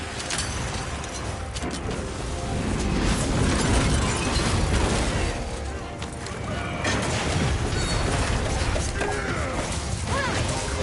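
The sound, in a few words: mustard bomb exploding in video game Monster Hunter Wilds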